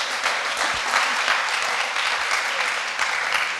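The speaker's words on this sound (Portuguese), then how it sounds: "salva de palmas para o Donatas" A conference audience at WikiCon Brasil applauds the winner of a photo contest, a full, steady clapping crowd with no break across the few seconds.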